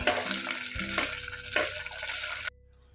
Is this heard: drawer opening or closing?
no